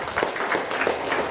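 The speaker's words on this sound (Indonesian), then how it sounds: "tepuk tangan dulu dong" An audience claps together in a dense, continuous burst of applause that holds steady at moderate loudness throughout.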